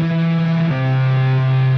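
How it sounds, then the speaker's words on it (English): A harp played through an Empress Heavy distortion pedal and a compressor gives a loud, sustained, buzzing distorted note with dense overtones, shifting pitch partway through, alone with no voices. "To make my harp sound like a guitar with distortion, I'm going to be using the Empress Heavy with a compressor."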